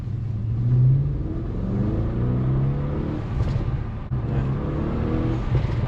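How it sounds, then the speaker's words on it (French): Audi RS7 Performance engine revving loudly in rising and falling sweeps, with brief bursts that may be the dump valve's short hiss, continuous and close with no talking. "il y a les dump valves qui sont installés. Donc on va voir s'il y a bien le petit pchit"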